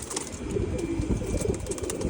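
Pigeons in a loft give soft, low repeated cooing close by, continuous and fairly faint against a light background hiss.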